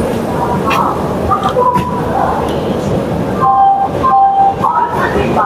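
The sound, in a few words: Puri-Howrah Shatabdi Express train departing Chandpur Keonjhar Road station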